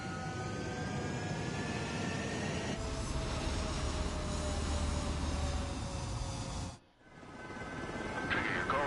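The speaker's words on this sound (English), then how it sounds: "Mage 2, cleared for takeoff." Fighter jet engine roar during takeoff in the video game Ace Combat 7, a loud steady broadband rush with rising whine, cutting out abruptly near the end before sound swells back in.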